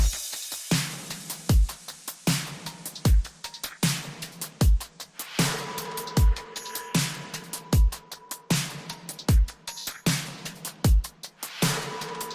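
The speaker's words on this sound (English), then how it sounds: "The drums in that production sound something like this." A punchy programmed pop drum beat loops steadily: deep booming kicks, crisp snare hits and tight ticking hi-hats in a regular mid-tempo pattern, with no voices.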